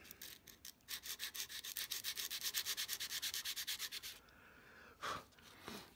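Coarse sandpaper rubbing back and forth on a swivel breech rifle kit part, a close, steady run of rhythmic rasping strokes lasting about four seconds, then a pause and a couple of separate scrapes.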